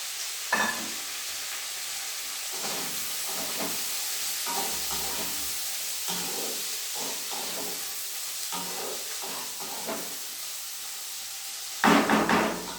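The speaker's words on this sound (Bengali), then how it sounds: "ভাজা হোক পরে আবার।" Carrots and other vegetables fry in a wok while being stirred, making a soft continuous sizzle with scraping stirs every second or so and a louder clatter at the end.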